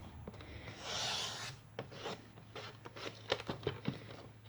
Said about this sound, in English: With this new trimmer, you can cut up to about 5 pieces of cardstock quite easily